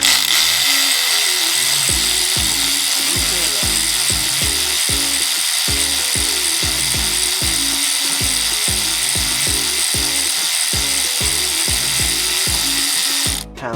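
A hand ratchet clicks rapidly and repeatedly while loosening the serpentine belt tensioner on a 2011 Toyota Corolla, a close, loud, even rhythm of sharp ticks that goes on without pause over a steady hiss and has no talking.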